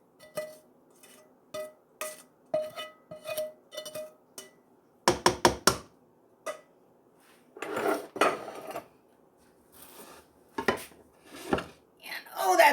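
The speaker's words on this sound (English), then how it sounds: "In go the onions." Onions and ham being tipped into a giant pot of noodles and sauce for Schinkennudeln, marked by a series of metallic clinks and clanks of utensils on the pot followed by louder scraping and stirring knocks, close by.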